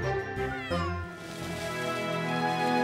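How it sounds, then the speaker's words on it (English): A kitten gives a long, bright, wavering meow in a children's animated show about Buster the Bus, loud and close over soft cartoon background music. "Look how happy the kitten is."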